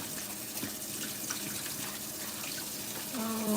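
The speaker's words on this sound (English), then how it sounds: "I just want to finish washing this meat and leave it to season" Tap water runs steadily into a kitchen sink while raw meat is washed during home cooking, a continuous soft hiss with faint splashes and clinks, near and moderately quiet, with a brief higher tone near the end.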